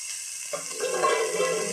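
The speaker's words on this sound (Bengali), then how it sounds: "ভালো করে ভেজে নিতে হবে।" Spring onion greens and coriander leaves go into a hot pan of spices and turmeric, with a sudden loud hiss starting about half a second in and holding steady to the end.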